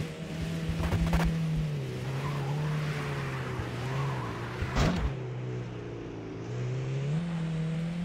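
A video game car drifts along a dirt field road, its engine droning steadily with brief tire squeals and skidding sounds rising over the motor near the middle.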